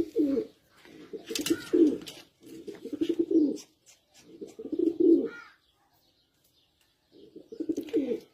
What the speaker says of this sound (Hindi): ये जी शेरदिल कबूतर आ गए माशाल्लाह